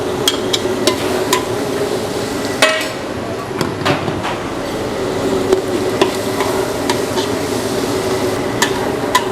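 Margarine goes into a hot pan with garlic and onion, giving a close sizzle punctuated by repeated sharp clinks and taps of a utensil against the pan; no talking.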